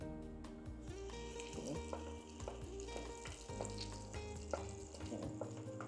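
Beaten egg mixture for a sardine omelette fries in an oiled pan, giving a steady close sizzle with bursts of stirring and scraping, while background music plays throughout.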